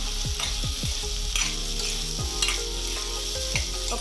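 Dal being stirred in a pan with salt and cumin-fenugreek powder, giving a steady close sizzle with repeated scraping strokes of a spoon, with no talking.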